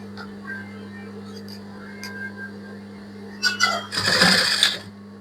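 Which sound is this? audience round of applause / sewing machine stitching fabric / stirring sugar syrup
sewing machine stitching fabric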